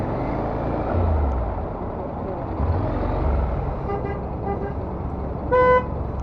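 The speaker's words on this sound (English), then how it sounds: "Who's honking?" Traffic rumbles along a busy New York City street, then a car horn gives a short, fairly loud toot near the end.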